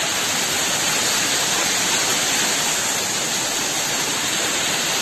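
A waterfall beside a mountain road in Uttarakhand gives a steady, close roar of rushing, splashing water that fills the whole stretch evenly, with no voices over it.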